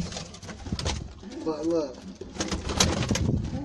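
Backyard rolling pigeons (feather-footed youngsters) cooing in a loose, throaty run, with someone talking over and around them; other birds chirp faintly in the background.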